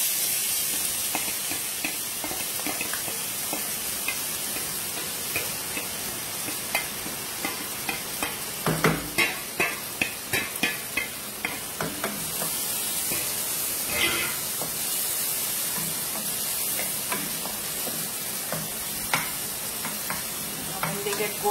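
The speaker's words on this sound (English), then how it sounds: "alright, the oil is hot, it's steaming, now I'm adding the onion." Onions fry in hot, steaming oil for a mutton and vegetable curry, a continuous sizzle and hiss with scattered stirring scrapes and clicks, close and steady, with occasional talk.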